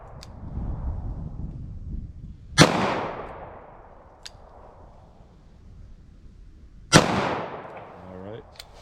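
Handgun shots fired in single action at a target on an outdoor range, two sharp, loud cracks a few seconds apart, each with a ringing decay, over low background murmur.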